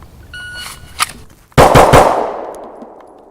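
Pistol shots at a red dot sight drill: a faint early pop, then a fast string of three sharp, loud outdoor shots with a fading echo.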